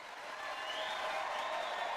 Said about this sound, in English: Suddenly, a huge cheer akin to the rumbling of the very earth itself came from the people below